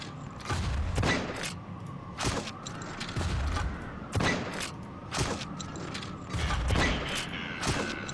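Repeated heavy explosive blasts from a grenade launcher in the first-person shooter Painkiller, loud booming bursts at about one-second intervals with mechanical clanks between them.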